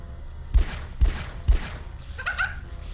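Three sharp gunshots from the video game Half-Life ring out at an even, quick pace, followed by fainter in-game sounds.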